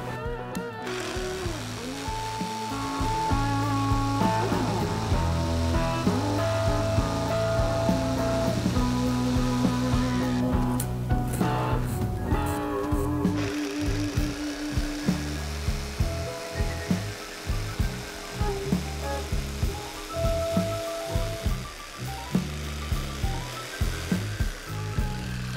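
A power tool sands a wooden floating wine bottle holder, a steady whirring grind that holds for long stretches, shifts in pitch and pauses briefly before starting again.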